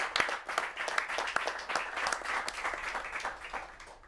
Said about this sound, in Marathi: आपण सर्वांनी टाळ्या देऊन वाजवून